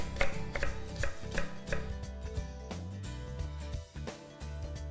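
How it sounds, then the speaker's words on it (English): Carrot and apple being chopped for muffins with a knife on a board: rapid, close, steady thuds in a busy rhythm, without talk. "Once you've chopped up your carrot and apple"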